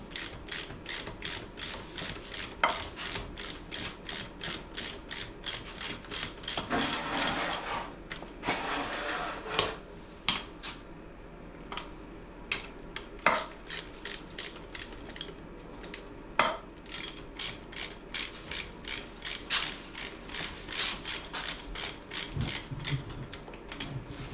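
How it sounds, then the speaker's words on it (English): Rapid ratchet clicking as a 9/16 socket backs out mud-caked bolts from an NP208 transfer case on a 1980s Ford W150 truck, with steady bursts of fast pawl clicks and brief pauses between turns, close and clear. "we can start pulling these bolts from the sides"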